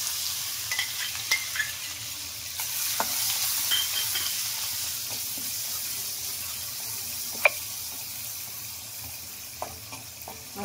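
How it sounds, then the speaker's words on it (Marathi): Ground spice paste fries in hot oil seasoned with asafoetida in a kadai, a steady close sizzle with occasional stirring clicks and scrapes throughout, no voices. "जो मसाला पण वाटलेला आहे तो आपण तेलात फ्राय करून घेऊया अगोदर।"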